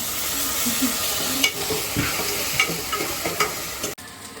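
Ginger garlic paste dropped into a hot pan, sizzling and frying steadily at close range while a spoon stirs and taps against the pan in a few distinct knocks.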